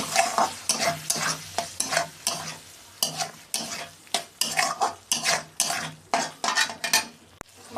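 Egg chicken tarka with fried egg being stirred and fried in a pan: rhythmic, fairly loud spatula scrapes against metal, roughly twice a second, over a constant sizzle, close and free of speech.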